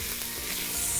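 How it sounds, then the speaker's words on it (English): Meat dropped into a pot of cooked vegetables for chili, giving a dense, even sizzle that swells slightly toward the end, close and without speech. "then you're going to add your meat into the pot"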